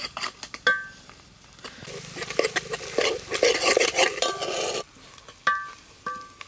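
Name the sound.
ginger garlic paste frying in oil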